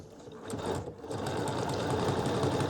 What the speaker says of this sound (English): And now I'm going to start sewing.